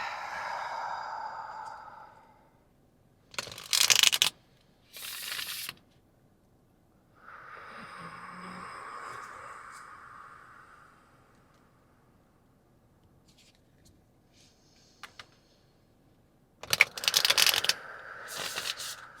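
Playing cards are shuffled in several short, crisp riffling bursts spread through a quiet stretch, separated by soft rustles and brief pauses, close and moderately loud with no voices.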